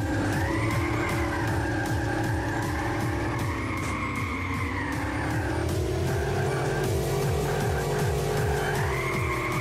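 Continuous squealing car tyres skidding through drifts in the video game MiniTracks on a Christmas course, a steady engine drone underneath with wavering tyre screech throughout and no voices.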